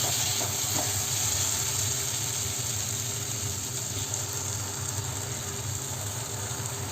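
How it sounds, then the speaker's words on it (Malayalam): Masala for Kerala-style chicken roast fries in a pan, and hot water poured in keeps a dense, steady sizzle hissing loud and close throughout. "ഇനി ഇതിനെ നന്നായിട്ടൊന്ന് ഇളക്കി കൊടുത്തതിന് ശേഷം ഇതിലേക്ക് ഒരല്പം ചൂടുവെള്ളം ചേർത്ത് കൊടുക്കാം."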